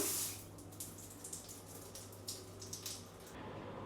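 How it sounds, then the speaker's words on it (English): A rainfall shower runs in a hotel bathroom in Bangkok, a faint steady hiss of falling water with some uneven splashing. "that's a really nice rainfall shower now"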